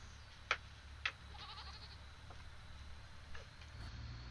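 Goats in a farming video game bleating while being moved, two short faint bleats close together, then a few softer calls over a low steady hum.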